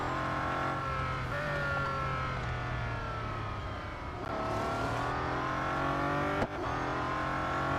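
Bugatti Centodieci race car in Real Racing 3 on a track lap, a steady loud engine drone rising and falling through gear changes with a sharp transient near the end, no voices.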